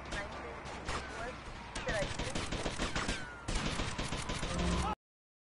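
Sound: gunfire in the video game Vice City

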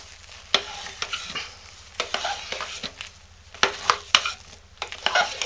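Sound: stirring hot process lotion bar soap in a pot

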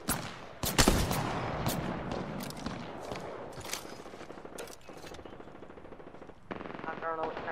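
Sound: gunfire in video game Apex Legends

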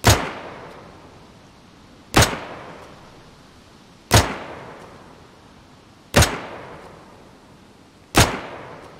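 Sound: M16 rifle firing unsuppressed single shots in DayZ video game

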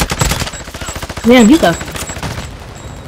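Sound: gunfire in the video game Warzone

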